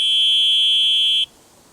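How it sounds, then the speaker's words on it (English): The horn built into the headlight of a Funhang 26-inch e-bike gives one loud, steady electronic buzzing tone that holds for just over a second and then cuts off abruptly, leaving a faint hiss. "built into the headlight as well is a horn"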